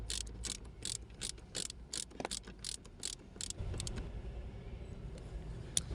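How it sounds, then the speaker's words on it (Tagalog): A ratchet wrench tightens two bolts on a brake assembly of a Mitsubishi Mirage automatic. Rapid, fairly close metallic clicking comes in quick runs, then gives way to a steadier mechanical rasp. "higpitan na natin yung mga itong dalawang bolt"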